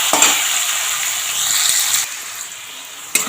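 Vegetables seasoned with salt and turmeric sizzle steadily in an oiled pan. The hiss stays close and even for about two seconds, then drops quieter, and a brief utensil clink comes near the end.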